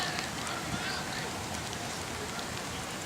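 Rain falling steadily on an outdoor kickball field, a dense even hiss of drops that stays constant from start to finish without letting up.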